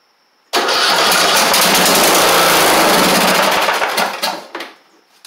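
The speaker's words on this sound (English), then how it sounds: "That sounds fine once you get it up in the higher RPM." A replacement engine on an MTD Craftsman LT1500 riding mower fires up after a short pause and runs loud and steady at high RPM for about four seconds, then tapers off unevenly with a couple of sputters.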